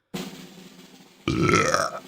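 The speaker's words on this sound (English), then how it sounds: "Got a burp." A man's single loud, drawn-out burp comes up close to the microphone, a short low rumble first, then a longer louder belch.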